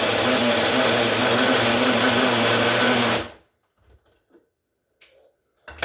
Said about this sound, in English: that's the nuts and the olive oil and the garlic all kind of blended super smooth there